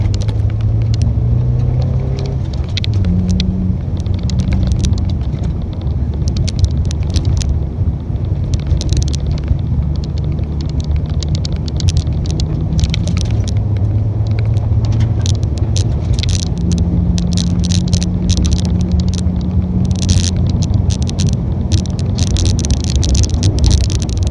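A car speeds at nearly 60 mph along Crawford Road, a rough, closed paved road, with loud continuous engine and road rumble, rattling and wind buffeting throughout.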